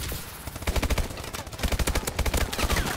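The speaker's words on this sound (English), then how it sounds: "I didn't know it was a freaking burst gun" Rapid bursts of gunfire from a burst gun in Call of Duty Advanced Warfare multiplayer, loud and close, in quick repeated volleys.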